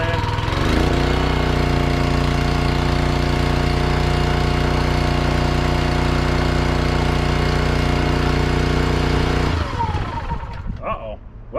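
A Honda engine powering a 1980s American wood splitter runs steady and loud for about nine seconds, a droning, throbbing hum that then cuts out abruptly, leaving quieter clunks and rattles at the end.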